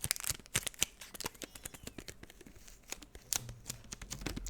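Repeated crackly rips of adhesive tape being pulled and torn, close up, in irregular bursts with faint handling noise between.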